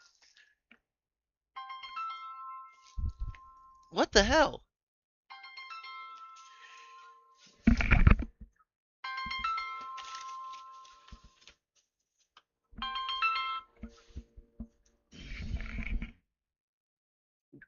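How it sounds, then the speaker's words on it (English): A phone ringtone repeats in short electronic bursts separated by pauses, with a person's voice cutting in briefly between the rings. "Where's my phone? It's ringing."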